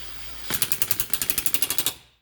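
Impact wrench or power tool running up a wheel lug nut on a 2006 Honda Civic: a rapid rattling burst of about fourteen evenly spaced hammering pulses, close and loud, lasting over a second before stopping.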